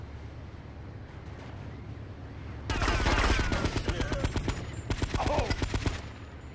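Rapid bursts of automatic gunfire in GTA Vice City Stories, dense and loud over ambient wind-like game noise, running in two volleys with a brief gap between them; a voice briefly exclaims.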